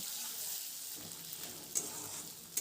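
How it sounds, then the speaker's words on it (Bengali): Chopped onions fry quietly in hot oil with bay leaf and five-spice, a soft steady sizzle with a couple of faint stirring clinks. "দিয়ে দিচ্ছি দুটো কুচানো পেঁয়াজ পেঁয়াজটা ভালো করে ভেজে নেব"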